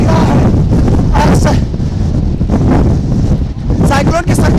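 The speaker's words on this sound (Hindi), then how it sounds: "बहुत तेज हवाएं चल रही हैं।" Strong cyclone winds roar along the coast during Cyclone Biparjoy, a loud, continuous buffeting rush with gusty surges battering the microphone throughout.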